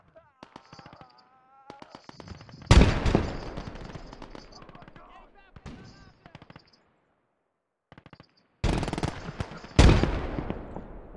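Gunfire in the World War II strategy game Call to Arms - Gates of Hell, set on the Eastern Front: scattered rifle shots, then loud machine-gun bursts and sharp cracks, separated by silent gaps, with faint voices at times.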